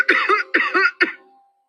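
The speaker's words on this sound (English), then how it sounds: "Clark began to cough uncontrollably and had to turn away from facing his mother" A man coughs hard in three harsh, rasping bursts in quick succession, close and loud, then trails off into silence.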